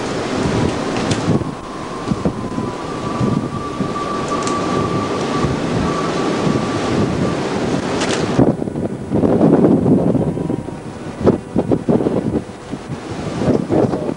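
Strong wind roars across the microphone in a hurricane-damaged area, a steady loud gusting rush with louder buffeting bursts toward the end and no voices.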